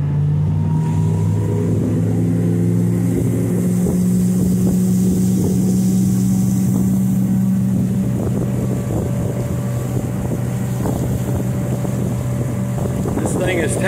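A 2018 Sun Tracker Bass Buggy 16 runs under a 40 hp Mercury four-stroke Command Thrust outboard, with a loud, steady engine drone and a rising then settling tone over water, wind rumbling into the microphone.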